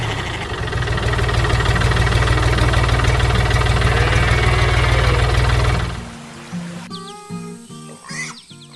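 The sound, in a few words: tractor engine roaring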